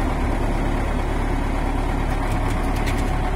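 Belarus MTZ-82.1 tractor backhoe loader runs steadily nearby while its boom and outrigger legs operate, a continuous diesel drone with faint mechanical clatter toward the end and no speech.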